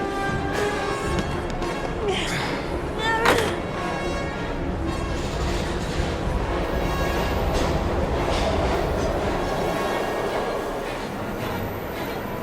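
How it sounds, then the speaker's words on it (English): A train rumbles steadily in the video game Heavy Rain, a dense continuous roar with a sharp metallic clank early on, loud and sustained without pause. "We've got to get on that train, Ethan. It's our only chance."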